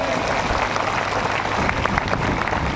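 An audience applauding in welcome of young people from a village panchayat, a dense, loud burst of clapping filling the short clip.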